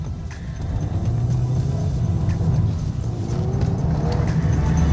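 A standard Volkswagen Golf R without the performance pack is driven hard through a drift, its engine droning loud and steady with rising revs, a faint tyre squeal, and road rumble close up.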